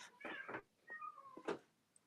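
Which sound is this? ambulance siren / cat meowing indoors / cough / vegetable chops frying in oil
cat meowing indoors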